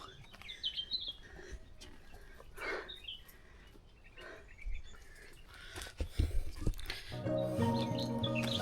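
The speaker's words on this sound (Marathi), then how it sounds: "मस्त पक्ष्यांचा आवाज एन्जॉय करत करत आपण चाललो आहे छान येतो पक्ष्यांचा आवाज" Birds chirp and tweet intermittently outdoors on a hill-fort trek at Sarasgad, with scattered calls over a steady background hum and some rustling noises.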